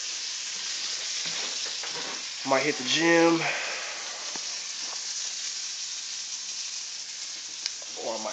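Breakfast fries in a pan with a constant bright sizzle running throughout, while someone speaks briefly over it midway and a few clinks sound near the end.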